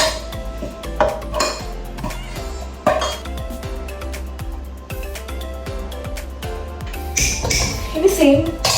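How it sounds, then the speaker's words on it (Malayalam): Remaining rice is spooned into a pot of Thalassery biryani, with repeated clinks and scrapes of a spoon against the metal pot, some louder knocks near the end, over a steady kitchen background. "നമുക്ക് ബാക്കിയുള്ള റൈസ് വീണ്ടും ഇതിലോട്ട് ആഡ് ചെയ്ത് കൊടുക്കാം."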